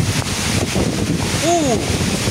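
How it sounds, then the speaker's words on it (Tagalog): Strong wind roars and buffets the microphone steadily, with a brief voice-like wail partway through the gusting. "Sobrang lakas na ng hangin."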